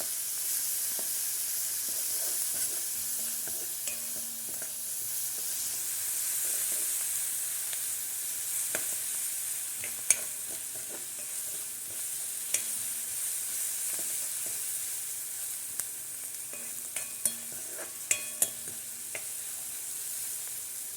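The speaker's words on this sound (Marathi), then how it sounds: "कांदा लाल परतला परतून घ्यायचा त्याच्यामध्ये थोडंसं मीठ टाकायचं लवकर कांदा परतत" Onion sautéing in a pan with a little salt gives a soft, even, fairly quiet sizzle, with sparse spatula taps that grow more frequent toward the end.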